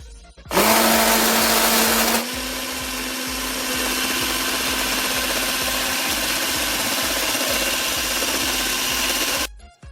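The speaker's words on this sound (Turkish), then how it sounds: "Yumurtam ve şekerimi iyice şu şimdi çırpacağım arkadaşlar" An electric mixer whisks eggs and sugar in a bowl for a cocoa cake, giving a loud, steady motor whine. The whine starts with a sharper burst, then settles into an even drone for several seconds before stopping.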